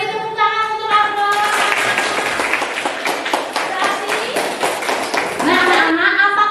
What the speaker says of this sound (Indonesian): Beri tepuk tangan untuk aku.